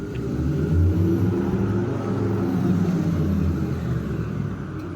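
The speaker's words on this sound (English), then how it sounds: "This is what the car sounds like with the Electric Sport Sound on." Interior of a 2025 Porsche Macan EV with the Electric Sport Sound on, a steady, full low hum and rumble filling the cabin, slightly swelling, continuous for several seconds with no talking.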